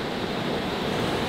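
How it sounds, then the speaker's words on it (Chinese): Big ocean waves on the coast: a continuous, broad roar of surf mixed with wind noise buffeting the microphone, steady and fairly loud over the short stretch. "不然你怎么知道今天海浪特别大呢？"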